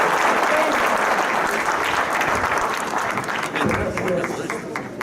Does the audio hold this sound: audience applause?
yes